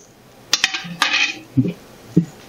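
Metal clinks and clatters a few times up close, like the tray of an electric pressure canner being handled and set down against the pot.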